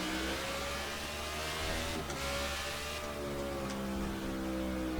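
In the NASCAR '15 video game at Sonoma Raceway, a race car engine drones loudly and steadily during the Toyota/Save Mart 350, the pitch rising and falling as it shifts and accelerates.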